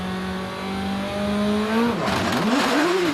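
A 2-litre hillclimb race car at Prescott holds a high, steady engine note, then launches into its run with wavering, stuttering revs that rise and dip, loud and close.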